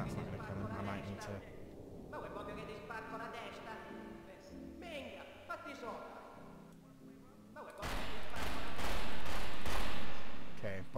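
Gunfire in GTA 3, with a busy stretch of shots and thuds that swells into a louder, sustained burst near the end, while someone talks over much of it.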